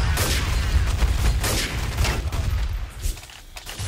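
Pistol fire in Counter-Strike: Source, a rapid string of loud, sharp close shots in quick bursts throughout, with a brief faint voice among them.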